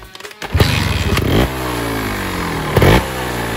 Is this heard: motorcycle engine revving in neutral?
yes